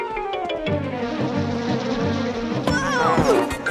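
A cartoon honeybee buzzing in an animated episode, a near, pulsing insect drone set against musical tones, rising into a swooping buzz toward the end.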